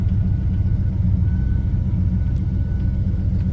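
A 1970 Plymouth GTX idles steadily just after starting, its deep, loud rumble holding an even pulse throughout.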